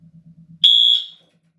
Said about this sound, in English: now I need to get this alarm figured out